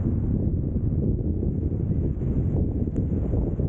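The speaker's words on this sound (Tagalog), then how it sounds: "Lakas ng hangin." Strong wind buffets the microphone in a steady, loud roar with low rumbling gusts, with no voices.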